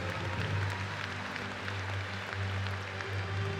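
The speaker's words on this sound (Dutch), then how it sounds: "Applaus" Steady applause from a crowd at a 2018 stallion inspection, a dense wash of clapping that holds evenly throughout with a low hum underneath.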